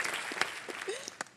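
Brief burst of hand clapping in a TV cooking competition studio, a short patter of applause that rises and fades over about a second with voices nearby.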